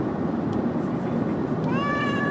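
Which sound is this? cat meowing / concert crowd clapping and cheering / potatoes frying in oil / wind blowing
cat meowing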